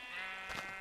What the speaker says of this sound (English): You can just run around, shear the sheep.